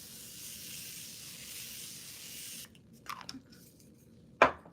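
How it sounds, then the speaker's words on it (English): A makeup setting spray mist is released in a short hiss near the end, following a stretch of soft background noise and faint handling sounds. "And then I'm going to go back in with my spray."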